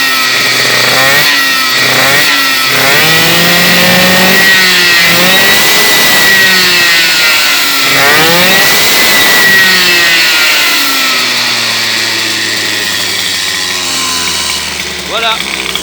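A small engine fitted with an Ignitech CDI variable ignition advance revs up and down repeatedly, its pitch sweeping through several loud, close surges before settling toward a lower idle.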